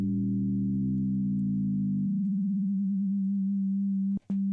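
A synthesizer filter pushed into self-resonance, its whistling sine tone pulled out at the sawtooth's third harmonic. A buzzy harmonic-rich drone narrows into a single steady pure tone that wavers briefly, holds, and is cut by a short click near the end.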